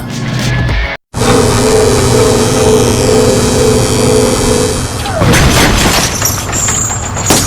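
Explosion from a special weapon in the vehicular combat game Twisted Metal Head On: a loud, sustained blast with rumbling debris, a brief drop to silence near the start, then a second burst of crackling impact noise.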